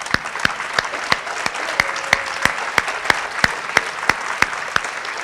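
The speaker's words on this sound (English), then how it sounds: "we just have a little moment of applause?" A few slow, evenly spaced claps ring out one after another, sharp and distinct against a quiet room rather than a full crowd.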